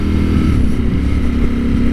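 A 2023 Ducati StreetFighter V4 SP2 engine drones steadily while riding, a loud, low, continuous hum under wind rush, with no speech.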